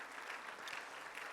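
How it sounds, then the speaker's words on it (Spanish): A church congregation claps in praise to the Lord after a prayer, a steady wash of applause heard faintly and at a distance for a brief moment. "Dale otro aplauso de alabanza al Señor"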